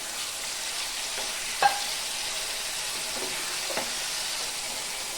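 Chicken pieces fry and sizzle steadily in a pan after a splash of spice-rinsing water, a continuous hissing crackle with a couple of sharp pops and stirring clinks, no voices.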